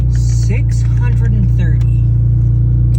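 A rough old Ford Mustang engine runs with a steady, heavy low rumble, while people talk over it.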